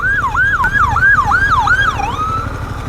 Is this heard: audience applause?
no